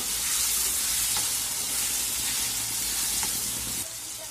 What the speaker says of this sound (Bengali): টমেটোটাকে আমি ভালো করে একটু ভেজে নেব।